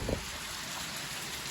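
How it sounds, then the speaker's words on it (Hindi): Heavy evening rain pours down steadily, a dense, even broadband hiss filling the scene with no clear pauses, close and constant, with a brief low thump at the very start. "बहुत ज़्यादा ही बारिश हो रही है।"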